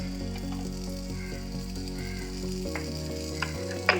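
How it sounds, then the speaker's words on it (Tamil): Mustard seeds and urad dal splutter in hot oil for a dhal curry tempering, a close, steady sizzle with scattered crackles and a few sharp pops near the end. "தேவையான அளவு கடுகு போட்டுட்டேன். கடுகு உளுந்த பருப்பு சேர்த்தாச்சு."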